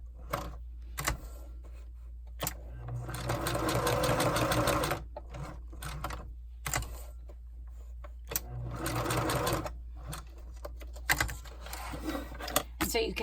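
A sewing machine stitches through paper in several bursts of rapid, steady needle chatter, pausing between runs as the paper is turned at corners, with quiet handling noises in the gaps.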